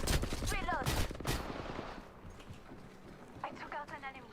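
Gunshots in a shooter video game, a cluster of loud shots early on over a noisy mix, then quieter sounds with a voice talking over the background.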